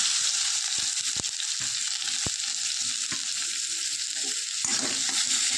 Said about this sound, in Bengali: তার জন্য দিয়ে দিচ্ছি তেল ফোড়নে দেবো জিরে একটা শুকনো লঙ্কা দিয়ে দেবো পেঁয়াজ